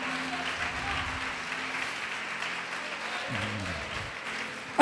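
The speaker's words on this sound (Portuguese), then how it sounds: "Pode aplaudir o Senhor Jesus e glorificar" Church congregation clapping together in praise during a worship service, a steady dense wash of applause filling the room with a few indistinct voices underneath.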